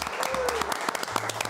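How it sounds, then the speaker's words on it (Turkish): A studio audience on a Turkish talk show applauds a guest with brisk, crisp claps from a modest crowd, while a voice carries on talking over the clapping. "Geldiği için alkış alabiliyoruz Gonca ya"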